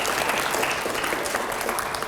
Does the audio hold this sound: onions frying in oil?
no